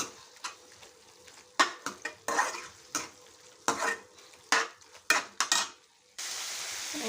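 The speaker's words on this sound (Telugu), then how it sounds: "అల్లం వెల్లుల్లి పేస్ట్ యాడ్ చేస్తున్నాము ఇది కొంచెం పచ్చివాసన పోయే వరకు అయితే ఫ్రై చేసుకోవాలి" Ginger garlic paste fries in a pan for a prawn gongura curry, with repeated scraping, clattering stirring strokes over a faint sizzle and a steadier hiss toward the end.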